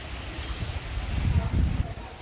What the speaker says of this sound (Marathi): डेंजर पाऊस आहे, नुसता पाऊस थांबतच नाही.